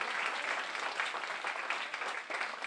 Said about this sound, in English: Give them a round of applause, amen.